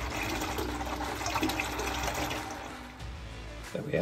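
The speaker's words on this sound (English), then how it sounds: "it's going into the fermenter pretty good. A lot of splashing around" Wort pours and splashes steadily into a fermenter on a homebrew day for a fresh-hop Kölsch, a continuous broadband liquid rush that holds fairly constant throughout, close and fairly loud, with no talk.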